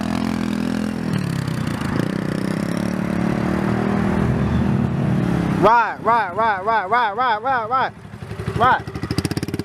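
A dirt bike engine drones steadily, then revs in a rapid series of rising and falling pulses as it shifts up, loud and close, with a final rev near the end and a person speaking briefly.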